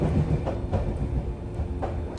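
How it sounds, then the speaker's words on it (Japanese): Meitetsu train wheels clattering over a right-angle diamond crossing of tracks, a few distinct knocking beats within a steady rail rumble, heard from inside the carriage. "今のがダイヤモンドクロスを通過した時の音です"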